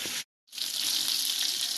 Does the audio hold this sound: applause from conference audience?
no